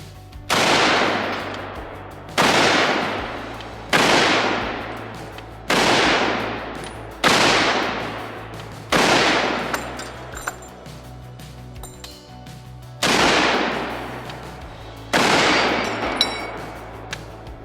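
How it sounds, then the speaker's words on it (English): Eight rifle shots fired at a cast iron Peerless 2300 transmission, loud sharp cracks spaced about two seconds apart, each followed by a ringing decay, with a faint metallic ping after some. "I'm gonna shoot all 8 and listen for the ping at the end."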